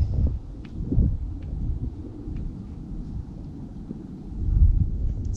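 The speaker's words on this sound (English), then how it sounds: "it is windy." Strong gusty wind at a winter fishing spot buffets the microphone with low rumbling roars, swelling at the start and again near the end, with faint rustling throughout.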